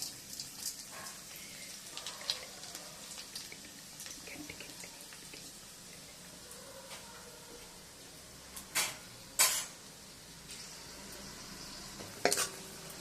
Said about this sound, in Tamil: இப்போது வடகம் போட்டுக்கலாம்.